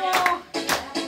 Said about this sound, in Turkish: bravo, alkış.